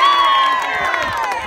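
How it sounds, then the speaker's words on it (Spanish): Crowd cheering and shouting for a player at a youth football trophy presentation, a loud, brief burst of whoops and voices with scattered clapping underneath, close and lively. "Un aplauso para Brian."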